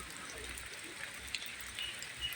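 Rain falls steadily in the Mahamaya forest on a wet day, a faint continuous hiss with scattered drops pattering on leaves and other surfaces. The sound is distant and even, with no talking.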